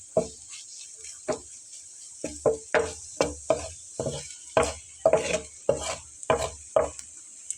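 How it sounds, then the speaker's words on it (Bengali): An egg fries softly in a pan, with a faint steady sizzle under a series of quick, rhythmic spatula scrapes and taps, close by and with no talking. "ডিমটা কিন্তু আমার সফট করে ভেজে নেওয়া হয়ে গেছে"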